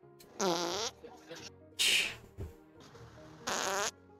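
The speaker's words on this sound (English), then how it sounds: "Did you, like, just record every single fart that you had?" A series of recorded farts plays back, three loud sustained blasts with quivering tone separated by short gaps and softer bits of sound.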